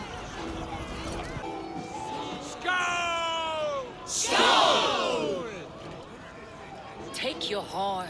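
A Viking crowd roars a battle cheer in Assassin's Creed Valhalla, rising whoops and bellowed shouts swelling in bursts alongside a blown horn, with a voice speaking between the cheers.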